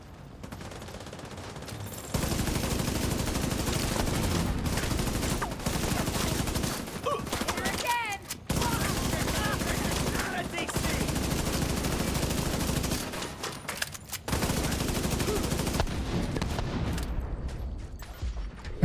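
Sustained rapid gunfire from a video-game firefight against an enemy coming through a window, with dense bursts in long stretches broken by brief pauses.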